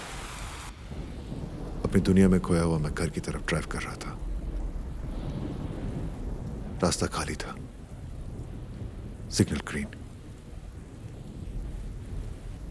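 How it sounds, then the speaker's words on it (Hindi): Steady rain with rolls of thunder on a night drive along an empty road, a broad wash running throughout with several louder rumbling swells, while someone narrates in a low voice over it. "उस रात बारिश हो रही थी"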